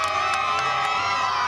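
A huge crowd cheering in Times Square, New York, late at night, a continuous roar of shouts and whoops from many people at a distance, steady and unbroken.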